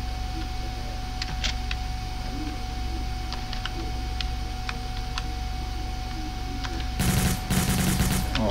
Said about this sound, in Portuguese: Tem tiro aqui na frente.